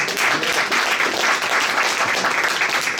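Loud, continuous round of audience applause at a youth tribute event, dense clapping sustained evenly throughout.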